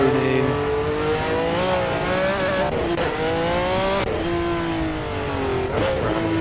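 A race car at Brands Hatch in Assetto Corsa drones loudly and close with a steady engine tone, shifting pitch as it revs, shifts gears and corners, with faint tire squeal.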